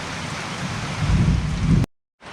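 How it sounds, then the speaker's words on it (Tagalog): Steady rain falling on a surface gives a dense, broadband patter with a low rumble. It swells slightly, then stops abruptly for a moment before resuming. "Maulan na naman sa amin"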